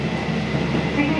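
The Kyushu Odan limited express train runs along the line in a steady interior rumble of wheels and motor, with broadband rolling noise throughout.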